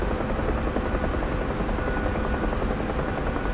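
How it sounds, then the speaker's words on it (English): UH-1 Huey helicopter in a VR flight game, a steady loud rotor and turbine drone running continuously throughout with no talk over it. "The helicopter is like a A symbol, right? Yeah, it's a helicopter."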